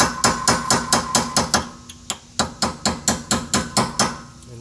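Hammer striking a chisel against a wheel hub dust cap on a 2006 Honda Accord rear hub, a steady train of about fifteen sharp metallic blows with a short break midway, close and loud.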